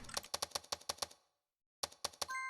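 Crisp, rapid typewriter-style key clacks from a typing simulator game, a run of evenly spaced strikes, then a pause and a second short burst ending in a bright chime, close and clear.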